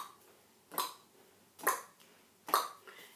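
Three evenly spaced claps ring out in a quiet classroom as fourth and fifth grade children clap a rhythm against a steady beat, each clap crisp and fairly close.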